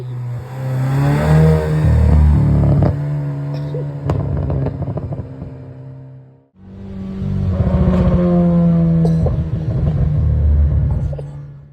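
A modified 2017 Mazda CX-3 with a 2-liter engine making about 184 horsepower, loud and close, rumbling and revving in two long surges with a brief dip between them.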